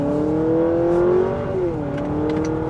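A 2023 Honda Accord Sport Hybrid accelerates, its engine droning and rising steadily in pitch from inside the cabin, easing briefly then climbing again, loud and continuous with no talking.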